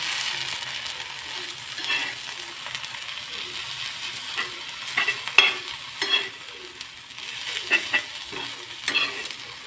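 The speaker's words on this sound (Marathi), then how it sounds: "भाजीला हलवून घेऊया." Gram-leaf and dal vegetable sizzles quietly in a pan while a spoon stirs it, giving soft frying hiss with scattered scraping and clinking strokes, close and low in level.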